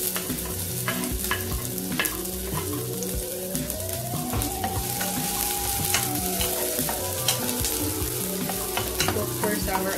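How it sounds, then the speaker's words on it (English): Onions saute in heated olive oil in a pan, giving a dense, steady sizzle with frequent spatula scrapes and clicks throughout, close and loud, while a faint rising and falling tone drifts in the background and no one speaks. "we now cook our onions"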